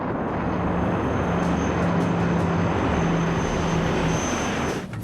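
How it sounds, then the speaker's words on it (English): Airplane engine droning steadily during a sluggish climb after the aircraft stops responding properly, a loud continuous broadband roar with a faint low hum, no voices. "The plane is climbing, but not as quickly as it should be."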